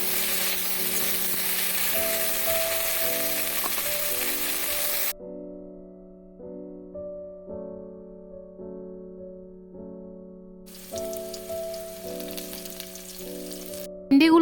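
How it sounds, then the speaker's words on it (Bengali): Okra (bhindi) fries in hot oil with a dense, close sizzle that drops out midway and returns near the end, while a melodic music track plays throughout and nobody speaks. "তারপর ভেন্ডিগুলো আমি 2 থেকে 3 মিনিট মতো ভেজে নেব।"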